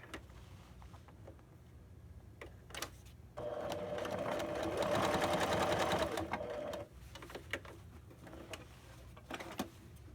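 A sewing machine runs a stay stitch for about three seconds, a steady buzzing whir between quieter handling clicks and taps before and after.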